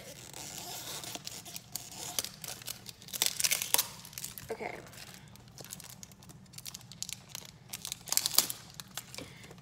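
Soft crinkling and snipping of plastic toy packaging cut with scissors, close and quiet, with irregular rustles and small cuts spread throughout.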